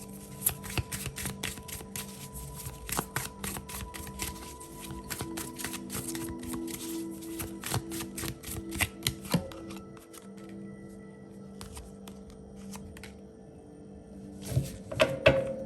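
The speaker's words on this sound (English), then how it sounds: "Oof, the cards are flying out of a deck." Tarot cards being shuffled by hand, a rapid run of crisp flicks and riffles with soft papery slaps as cards fly out of the deck, close and fairly quiet, with a few louder thunks near the end.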